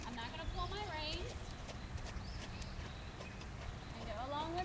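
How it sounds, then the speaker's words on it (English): Hooves of a horse being trotted in a riding session clip-clop steadily in a quick rhythm, with a rider talking over them and birds chirping in the background. "I'm gonna trot her off one more time"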